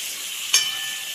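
Chicken pieces drop into a hot frying pan for chilli chicken, giving one brief sharp sizzle that fades into a low hiss.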